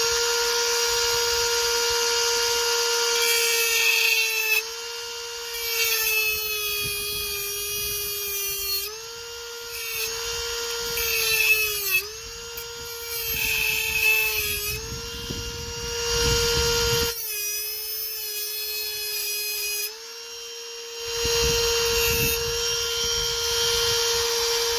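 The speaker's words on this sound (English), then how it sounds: "I'm going to cut some of this out and then take the plastic and melt and weld it in there" A high-speed rotary power tool cuts into the plastic of a 10mm Beretta pistol magazine, giving a close, piercing whine that dips in pitch and loudness as it bites, with several short pauses between passes.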